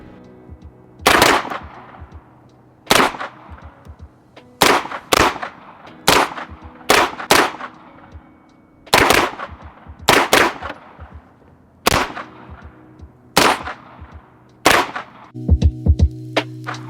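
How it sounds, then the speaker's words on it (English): Gunfire at Throom and Double Action reactive steel targets, loud sharp shots in irregular singles and quick pairs with ringing decay, ending in a rapid burst, no talking. "We're going to start off with 100 rounds each on each target"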